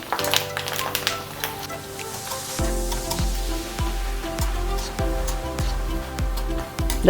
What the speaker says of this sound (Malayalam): നമ്മുടെ വെണ്ടയ്ക്ക് കൊണ്ടാട്ടം എങ്ങനെ വറുക്കുന്നതും കൂടി കാണിച്ചു തരാതാ